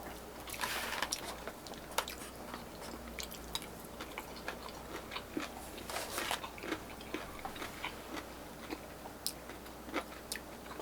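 Close, crunchy chewing of chicken and curry rice with a sweet and spicy sauce at a Thai restaurant, steady irregular bites and mouth clicks continuing for several seconds over a low background hum, no talking.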